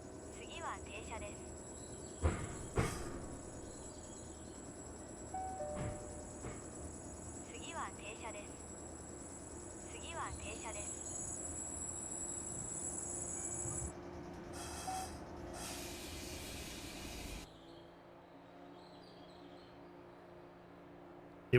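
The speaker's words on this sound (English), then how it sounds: "Oh, it sounds like a compressor running." A steady mechanical drone from a train compressor runs for most of the stretch, with faint clicks and brief hisses on top. It cuts off abruptly near the end and leaves a lower hum.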